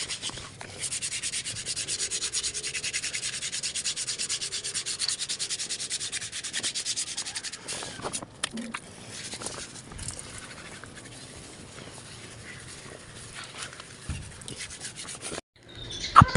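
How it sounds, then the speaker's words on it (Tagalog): Wet sanding of body filler on a curved pipe with 60-grit sandpaper, water and soap, a steady close rasping rub that continues for a long stretch before slowing and pausing near the end. "niliha ko na siya ng number 60. Tapos tubig at sabon yan yung ginagamit ko"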